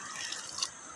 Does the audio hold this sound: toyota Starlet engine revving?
no